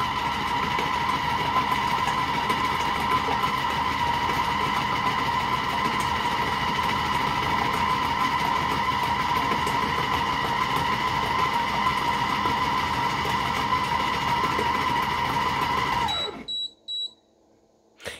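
A Compact Cook Platinum food processor whirs steadily at speed 4 while mixing chocolate mousse, a loud, even motor hum running for about sixteen seconds before cutting off, followed by a few short beeps.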